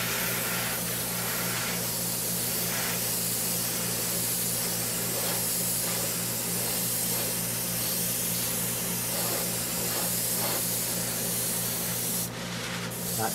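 An airbrush sprays Tamiya paint thinned about 20% with Tamiya thinner while painting a model ship, giving a steady, close, continuous hiss with faint rhythmic pulses and a brief shift near the end, with no one talking.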